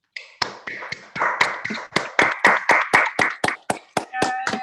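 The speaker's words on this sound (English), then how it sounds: "give an audible round of applause" Scattered clapping from a small online audience over open microphones at a young-people's writing reading, about a dozen sharp, uneven claps close and loud with faint voices mixed in.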